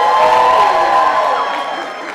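Keynote audience at a small business event cheering and shouting together, a dense sustained crowd roar that stays loud throughout and eases slightly toward the end.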